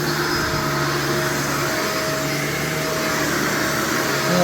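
A Shark Vertex upright vacuum cleaner runs on carpet with a loud, steady close-up roar and a constant motor whine, with a slight surge at the end.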